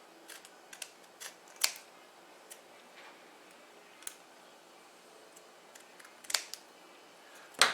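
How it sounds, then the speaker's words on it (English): Sharp, crisp snips of scissors cutting, spaced irregularly with small clicks between, close and quiet with no talking. "I'm just going to nip this off a little bit here with the scissors."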